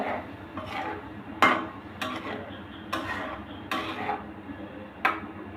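A spoon clatters against a metal pot while pointed gourd curry is stirred, giving a series of sharp scraping knocks at an irregular pace over a low steady cooking hiss.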